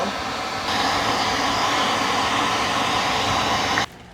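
A pet hair dryer used in grooming a Morkie dog blows in a steady, loud, close whoosh, stepping up in intensity after a moment, then cutting off abruptly near the end.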